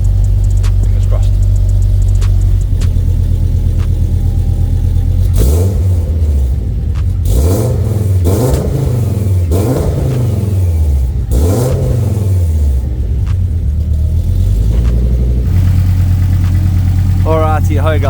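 A rebuilt Ford XR5x4 turbo engine idles loudly in a garage, then revs repeatedly in several rising and falling bursts before settling back to a steady idle.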